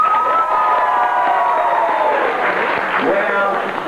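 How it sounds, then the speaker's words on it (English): An audience at the Golden Horseshoe Saloon show in Disneyland claps, cheers and whoops loudly for several seconds, with high excited voices mixed into a dense, sustained roar that trails off near the end. "I think we can clap and possibly cheer a little louder than that"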